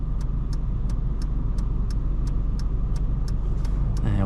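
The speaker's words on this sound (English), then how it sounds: "Let some cars go." Cars passing steadily through a give-way intersection in Brisbane, heard from inside a waiting vehicle as a continuous road rumble with a low engine drone, growing a little louder near the end.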